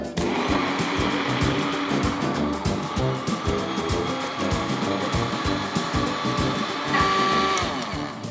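Blender puréeing broccoli and cauliflower soup, a loud steady motor whir with rhythmic churning pulses throughout and a slight pitch change near the end.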